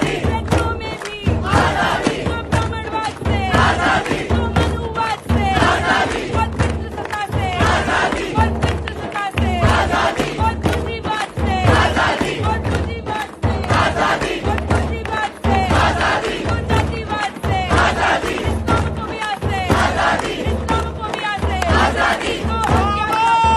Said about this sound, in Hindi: एक तरफ जेएनयू में ब्राह्मणवाद मुर्दाबाद के नारे लग रहे हैं